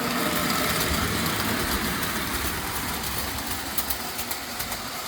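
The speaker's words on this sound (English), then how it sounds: "we're going to go ahead and put this train into operation" A 1930 prewar Lionel outfit 234 toy train with 4-wheel passenger cars runs on its track, giving a steady whirring motor drone with light rattling clicks of wheels on rail, close up, with no talking.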